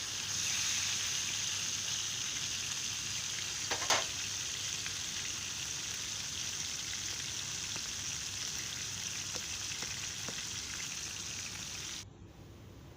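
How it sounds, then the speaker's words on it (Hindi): Food frying in a pan, being browned to a golden almond colour while cooking a spinach dish, gives a steady close sizzle that runs continuously for about twelve seconds, with a brief clatter near the start, before it cuts off at the end. "ये देखें जनाब, बादामी बादामी कलर का मेरा अच्छा फ्राई हो जाए।"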